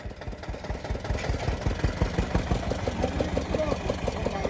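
A fertilizer-spreading tractor stuck in a field chugs steadily at a low idle, its engine knocking in a rough, even rhythm, close and moderately loud throughout.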